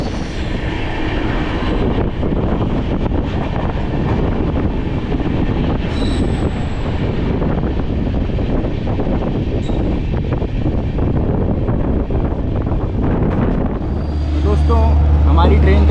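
A long-distance express train, the 12330 West Bengal Sampark Kranti, rolls into Gaya Junction railway station with a loud, continuous roar of wheels on rails, brake squeal and clatter close by, and a voice joins near the end.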